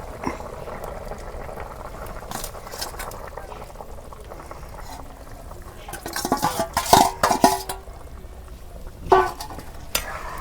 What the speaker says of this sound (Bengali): এই দেখো আলুর বলক উঠছে